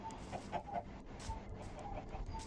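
A Minecraft chicken gives several short, clipped clucks in an uneven rhythm, moderately close, with no speech and a few soft bumps and rustles around them.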